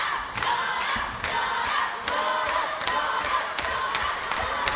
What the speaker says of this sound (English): Everybody on that sideline cheering for Shauna Rowe